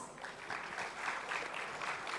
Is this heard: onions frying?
no